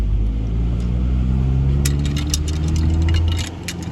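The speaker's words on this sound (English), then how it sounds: "Oh, there it is. There's a rattling noise." A car being driven along a road makes a steady engine and road rumble, with a light intermittent rattling that rises over the drone partway through, recorded close from inside the vehicle.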